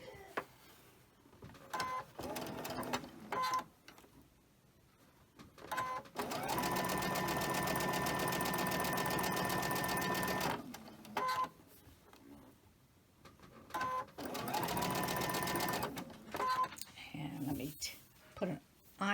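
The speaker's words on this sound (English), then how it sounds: "we're going to chain stitch this" Sewing machine chain stitching quilt block pieces, rapid mechanical whirring in several bursts, two long runs of about four seconds and shorter stitches between, with handling noises in the pauses.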